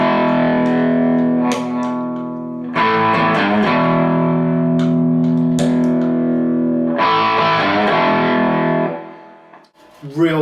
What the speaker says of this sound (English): If I go into the middle setting, which is the standard Rangemaster